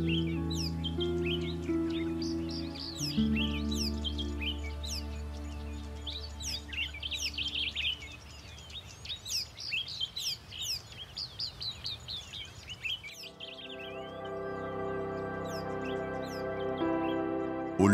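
African birds greet the sunrise with a dense chorus of chirps and whistles. Many overlapping calls repeat over a steady low drone from an orchestral score.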